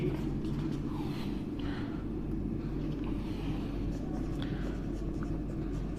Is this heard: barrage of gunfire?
no